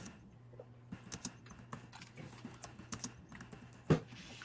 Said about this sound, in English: Yeah, I'm typing, brother. I'm typing.